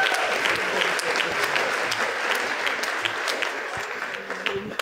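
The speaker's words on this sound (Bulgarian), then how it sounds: "Дайте ни аплодисменти сега за Димитър Иванов" Audience at a comedy roast applauding comedian Dimitar Ivanov, a thick steady round of clapping with crowd noise that fades slightly near the end, with some voices mixed in.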